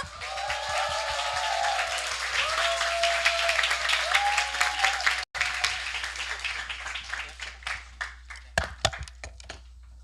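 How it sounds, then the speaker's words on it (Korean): A crowd claps steadily and loudly, then the applause thins into scattered individual claps before fading out. "멋진 리더 김용훈 사님 모실 때 큰 박수 부탁드립니다"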